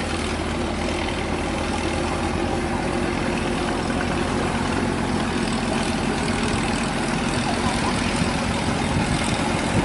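A composite boat's inboard engine runs steadily on a river in the Mekong Delta, smoking as it goes, a constant low droning rumble with an even, unbroken level and broadband noise.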